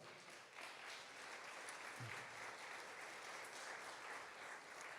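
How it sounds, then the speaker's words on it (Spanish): A church congregation applauds in praise, a faint but steady wash of many hands clapping, heard from a distance with little else over it. "Den un aplauso al Señor."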